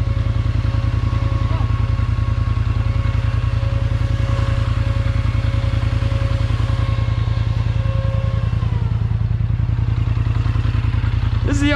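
A 2021 Can-Am Outlander High Lifter ATV runs loud and steady close by, its engine throbbing and clattering without a break for the whole stretch.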